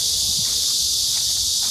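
Cicadas chirp in a purple-flowered grove at Seongju Seongbak forest, making a constant loud high-pitched buzzing drone with no break.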